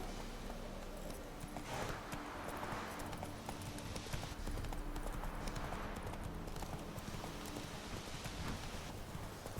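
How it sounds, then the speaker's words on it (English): Horse hooves clip-clop steadily in The Witcher 3: The Wild Hunt, a quick rhythmic beat of hoofsteps over faint rain. "Cavalo! Cavalo!"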